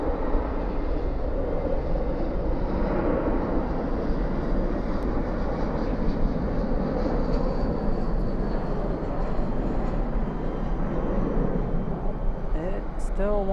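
A Boeing 787 Dreamliner taking off at night from Dallas Fort Worth airport, a long, steady jet engine roar heard at a distance, with a voice speaking over it.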